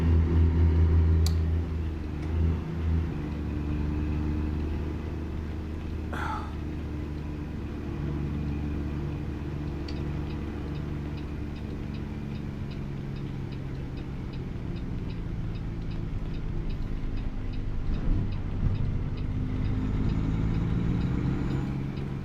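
A truck rumbles along in a driving video game, its engine humming and idling steadily at mid pitch with faint ticking, occasional bumps and small clicks, loud and continuous with no voices.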